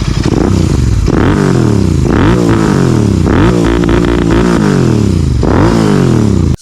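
A Royal Enfield Continental GT 650 with a Red Rooster aftermarket exhaust is ridden with the engine close and loud, revving up repeatedly through rising gear pulls with brief dips between shifts.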